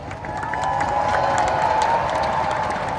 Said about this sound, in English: let's thank all our performers and participants today with this huge round of applause